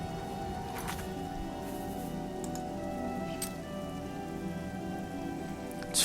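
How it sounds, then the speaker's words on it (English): Steady rain pattering on surfaces in the outdoor world of the game Oblivion, a constant soft hiss with scattered louder drops, faint and continuous with no talk. "Feels like maybe the rain is letting up finally."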